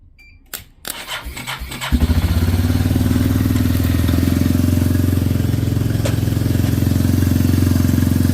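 A 2000 Yamaha Beartracker 250 ATV fitted with a cheap Chinese carburetor clicks a few times, then fires up and settles into a loud, steady, close-up idle that runs to the end.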